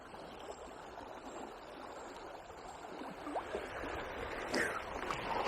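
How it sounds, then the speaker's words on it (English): Fast river water flows on the River Wye, a steady rushing and gurgling wash, fairly faint, with a few splashes and ticks near the end. "Proper belted through here, the water."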